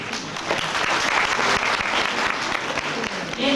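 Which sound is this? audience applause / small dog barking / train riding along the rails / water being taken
audience applause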